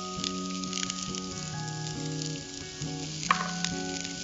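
Chopped onion, ginger and garlic sizzle steadily in hot oil, a continuous close frying hiss, with a steady musical tone running underneath and one sharp knock near the end.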